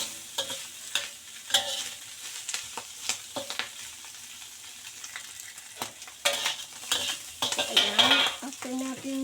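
Green beans are stir-fried with dried bean curd, dried shrimp and preserved mustard, a spatula scraping and clattering against the pan in quick irregular strokes over a light sizzle, with a brief voice near the end.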